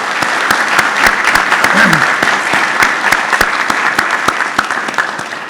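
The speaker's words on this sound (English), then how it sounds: "let's give an applause to Electrical Engineering Professor of Instruction" Audience applause at a university engineering induction ceremony, a loud sustained crowd clapping with sharp individual claps standing out close by and a brief voice in the middle.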